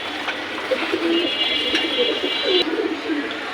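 A pigeon coos in soft low murmurs close by, repeating over a steady background hiss.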